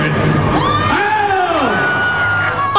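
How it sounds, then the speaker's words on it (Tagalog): A crowd of football fans supporting the Philippine Azkals screams, whoops and yells together, loud and close, with several rising and falling shouted voices standing out above the roar. "Ang hiyawan, sigawan at tuliang ito"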